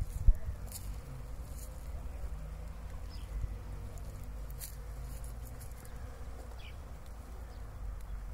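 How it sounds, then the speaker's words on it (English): Honeybees buzz around mustard flowers in an open field, a faint low droning hum with occasional nearer passes over a steady outdoor background. "Honeybees ni honeybees."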